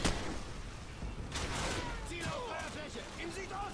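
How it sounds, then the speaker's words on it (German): Gunfire in the video game Call of Duty: Modern Warfare, with several sharp shots and bursts early on over a busy game soundscape, and voices talking throughout. "ein Schuss, okay"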